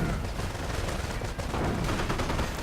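.30 caliber machine gun fire in a 1v1 strategy video game match: dense, rapid bursts of gunfire crackle continuously at a fairly even level over a busy battle din.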